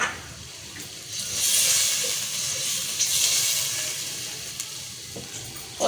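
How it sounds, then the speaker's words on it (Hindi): Water poured into a hot pan of tomatoes, onion, garlic, ginger and chili sets off loud, continuous sizzling and steamy hissing that swells and then settles, with no talking. "थोड़ा सा पानी डालूंगी ताकि टमाटर गल जाए।"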